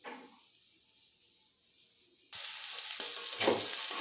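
Potatoes, pointed gourd and nuts fry in a pan: a faint hiss at first, then a sudden louder sizzle with stirring scrapes and rattles for the last couple of seconds, close by.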